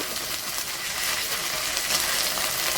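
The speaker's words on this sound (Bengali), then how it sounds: "আদাটাও একটু কষিয়ে নেব" Ginger paste and garlic fry in a pan for a chicken kalia with bottle gourd. A steady, close, bright sizzling hiss runs throughout with little change in level.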